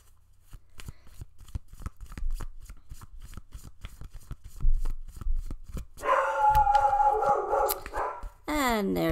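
A dog barks and howls in a room, a few sharp barks rising into a long drawn-out howl near the end, while cards shuffle and snap rhythmically in the foreground and a person speaks.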